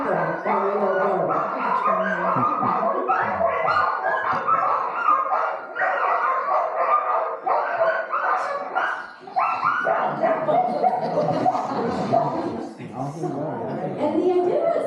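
A team of sled dogs tethered to an anchored sled tied to a tree bark and yip together in a loud, nonstop chorus, with whimpers and overlapping yelps, close by throughout.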